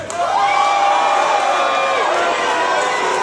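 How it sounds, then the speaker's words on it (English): A concert crowd in Cleveland cheers and shouts loudly and continuously, a dense wall of voices and whoops that fills the whole moment close up. "You guys are cheering for Cincinnati?"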